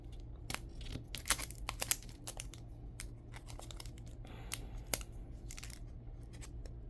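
Scissors cutting paper along a drawn line, guided by a ruler: close, quiet snips and crisp paper crackles in short irregular bursts, some quick runs of cuts, over a soft low background hum with no talk.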